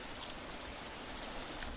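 Steady rushing of a river stream in the jungle survival game Green Hell: a faint, continuous wash of flowing water with no breaks.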